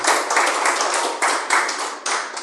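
A church congregation claps their hands in praise, loud and close, in rapid, dense bursts that swell and break off a few times within the short span.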